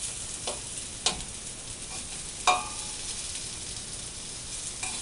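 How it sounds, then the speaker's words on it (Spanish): Tortillas fry in hot oil for Apatzingán-style enchiladas, a steady close sizzle broken by a few sharp crackles and pops as they are moved around the pan. "Estas las vamos a freír aquí un ratito."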